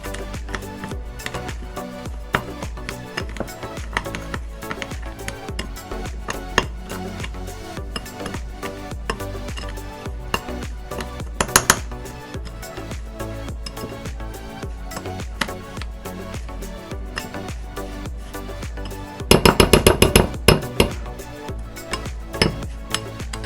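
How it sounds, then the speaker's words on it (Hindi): Butter and brown sugar being mixed in a bowl, with steady scraping and tapping of a utensil against the bowl that grows into a louder clattering burst toward the end. "अब मैंने इसमें हाफ कप जो है वो ब्राउन शुगर ऐड किया है और इसे बहुत अच्छे से मिक्स कर रहे हैं।"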